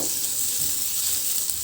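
Chopped garlic and ginger fry in hot oil until golden brown, giving a continuous, loud, bright sizzle that stays even from start to finish with no voices over it.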